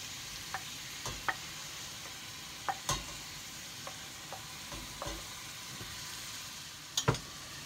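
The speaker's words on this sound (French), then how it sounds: "Je fais revenir 2-3 minutes. Je rajoute les carottes" Carrots sauté in a pan for cotechino with lentils, a low steady sizzle broken by occasional scraping stirs and utensil taps, close by with no talking.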